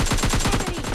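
Rapid automatic fire from an M249 machine gun in PUBG Mobile Lite, a dense, fast rattle of shots running unbroken through the whole second.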